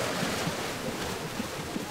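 Leather dyeing drum spinning with saffron powder dispersed in water at a Moroccan tannery, a continuous rushing, sloshing churn with faint rhythmic thumps, close and steady, with no talk.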